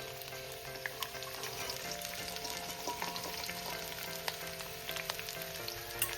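Spring onion stalks frying in a pan with broad beans and potato pieces for a mixed side dish, giving a steady close sizzle with scattered crackles and light stirring taps across the whole stretch.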